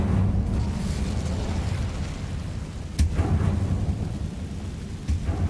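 Incendio fire spell in Hogwarts Legacy, a loud roaring whoosh of flame sustained throughout, punctuated by two sharp bursts partway through and near the end.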